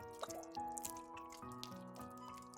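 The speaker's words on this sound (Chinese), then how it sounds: "我们再用流动的温水给它清洗干净。" Warm running water from a kitchen tap splashes and drips steadily over a pig stomach being rinsed by hand, close and continuous with small watery spatters.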